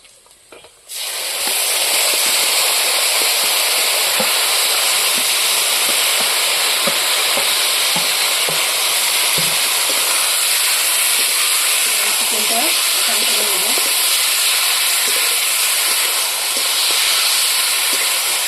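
Chicken pieces fry in hot oil in a kadai with a loud, steady hiss and sizzle that starts abruptly and keeps going, dense and close, with a few faint scrapes underneath.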